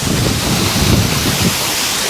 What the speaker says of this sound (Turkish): Bebek şelalesi diyorlar.